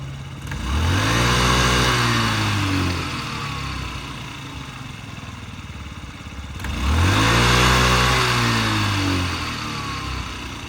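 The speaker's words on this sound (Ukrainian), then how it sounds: "М'якенько, тихенько, чудово працює двигун" A small Yamaha Jog SA55J fuel-injected scooter engine revs up twice and settles back to a steady idle between, running smoothly and close by.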